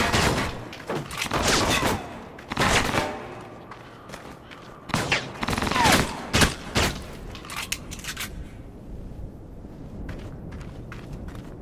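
Video game gunfire in Alpha Protocol, bursts of automatic shots and booming impacts coming in clustered volleys, loud and close, with quieter gaps between.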